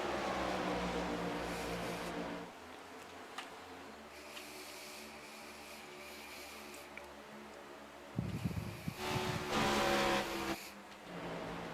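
Stock cars roar past in the iRacing game during a Cup Series playoff race, loud engine drone at the start, a quieter stretch, then another car surging by close and loud near the end.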